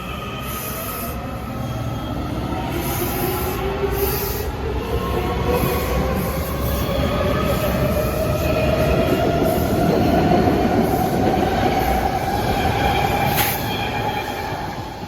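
A Washington Metro Kawasaki railcar train pulls away from Fort Totten station, its wheels squealing in long rising tones over a steady rumbling roar that stays loud and close for the whole stretch, with no talking.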